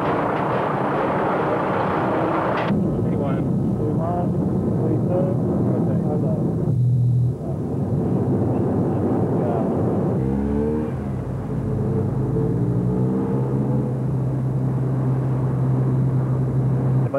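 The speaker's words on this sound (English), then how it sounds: "take off for Lisbon in his private jet" Private jet aircraft taking off in 1991, steady loud engine roar building and rumbling throughout, with radio-style voices and talk layered over it.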